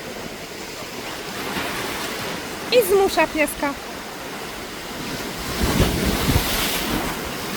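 Big sea waves at Funtana beach near Poreč, Croatia, roll in a constant surf roar with wind buffeting the microphone, while a person speaks briefly partway through.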